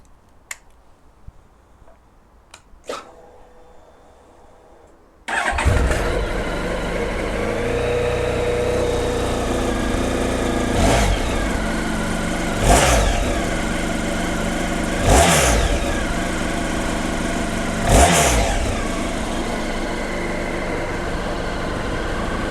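After a few faint clicks in quiet, a Honda VFR 1200 motorcycle engine fires up and idles steadily, with four sharp revs blipping up at intervals.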